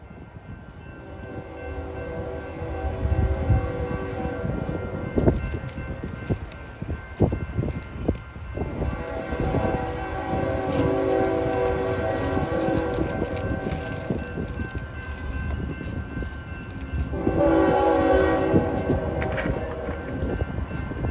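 A Union Pacific freight train passes in College Station, Texas, with rumbling wheels and wagons under wind buffeting on the microphone, and sustained horn-like tonal blasts sounding loud and near in two stretches.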